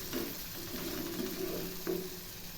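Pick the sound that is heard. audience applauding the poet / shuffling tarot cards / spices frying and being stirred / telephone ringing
spices frying and being stirred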